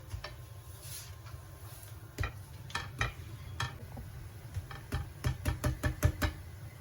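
A moong dal paratha roasting dry in a pan: faint low background hiss broken by a series of sharp taps and knocks, sparse at first and then quicker and clustered toward the end.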